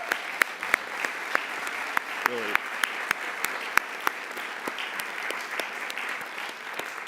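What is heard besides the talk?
round of applause for the ABA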